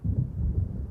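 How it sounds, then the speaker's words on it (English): Deep, continuous thunder rumbles low and steady for about a second, the rolling of an approaching storm in the video game Alan Wake Remastered. "It seems there's a storm coming."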